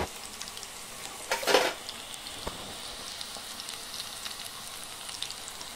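Onion pakoda fries in oil over low heat, giving a steady close sizzle with a short louder burst of bubbling near the start, then an even crackle and no voices.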